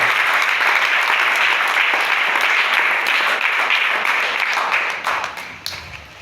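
A church congregation applauds in loud, sustained clapping that fills the room, then thins out and fades toward the end.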